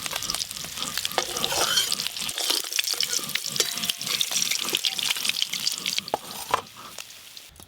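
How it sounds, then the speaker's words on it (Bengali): Gold fish pieces frying red in hot oil for a village-style tel jhal, a loud continuous crackling sizzle broken by rhythmic spatula stirs, then quieting slightly near the end. "ঠিক সেরকম করে এই মাছগুলো ভেজে নেব।"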